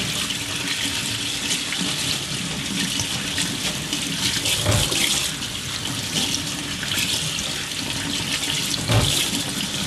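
Steady running cool tap water splashing continuously into a sink while bacon is rinsed, broadband and even, with a couple of brief louder splashes.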